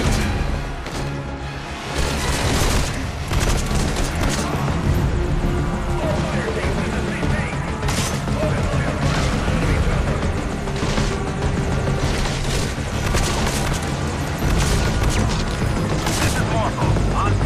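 In the Metal Gear Solid V: Ground Zeroes video game, a helicopter's steady rotor roar fills the scene while dense gunfire and bursts of automatic fire crackle throughout a loud, chaotic battle.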